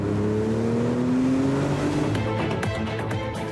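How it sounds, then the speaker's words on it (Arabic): A Porsche 911 Targa accelerates hard, its engine note climbing steadily, then a whistling turbo sound rises behind the engine noise as it pulls away. "عندما أضغط على دواسة الوقود أسمع في الخلف صوتا يشبه الصفير"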